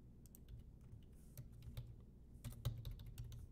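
Keys click on a computer keyboard in irregular bursts of quick close taps, quiet and isolated with no talk.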